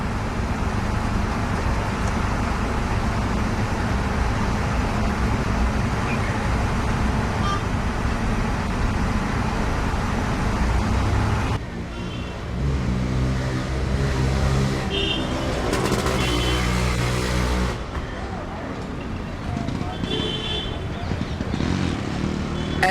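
Steady road traffic hum from cars on a busy city street, loud and continuous throughout, with a shift in the mix about halfway as nearer engines and passing vehicles come and go.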